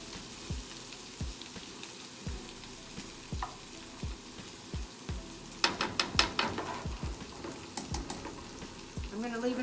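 Garlic fries and browns in a hot pan, a continuous sizzle broken by regular stirring scrapes and a burst of sharper crackles midway.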